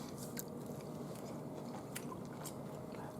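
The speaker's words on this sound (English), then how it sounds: "The beans are kind of crunchy though." Someone biting and chewing crunchy broiled baked beans with sauce and tomato, close to the mic: a few sharp, quiet crunches at irregular intervals over soft mouth sounds.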